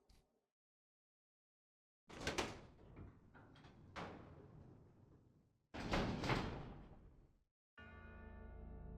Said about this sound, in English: let's check the double doors here